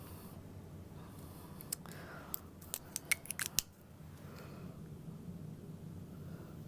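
Scissors snip through leather while cutting out a convertible backpack pattern: a short run of crisp, close cuts clustered in the middle, set against a quiet, steady room hum with no talking.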